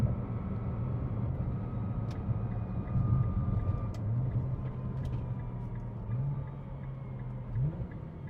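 Subtle transmission gear whine from a Nissan R35 GT-R NISMO with a rebuilt transmission, around 150,000 miles, heard from inside while driving, a steady low drivetrain rumble with faint shifting tonal whine and no talk.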